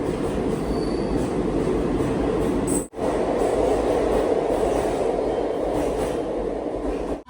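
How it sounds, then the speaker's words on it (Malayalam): A train runs steadily on rails on the route from Salem, its broad rumble and wheel noise loud and continuous throughout, with a brief dip partway through and a faint high squeal; no voices. "4:30 സേലത്ത് നിന്ന് ഇതാ ഈ റോഡിലേക്ക് ട്രെയിൻ എടുത്തിരിക്കുകയാണ്"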